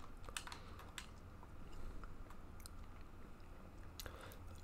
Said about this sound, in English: Oh, sorry, I'm chewing gum.